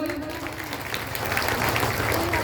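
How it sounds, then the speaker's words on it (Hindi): A crowd claps, the applause swelling slightly louder toward the end, a dense patter of many hands under a faint voice. "तो टॉलबिल लाइफ के लिए जोरदार तालियां भाई"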